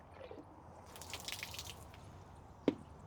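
Water drips from a heavy, waterlogged section of pollarded willow set on the ground outdoors, with faint soft patters and one sharp, close drop standing out near the end.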